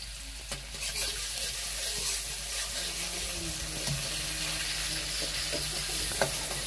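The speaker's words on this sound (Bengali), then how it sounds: "এদিকে পেঁয়াজ রসুন ভেজে নিচ্ছে।" Onion and garlic fry in a kadai over a fire while fish curry with satkara is being cooked. A steady close sizzle carries throughout, with faint clinks and scrapes of stirring and a light watery background, and no talk.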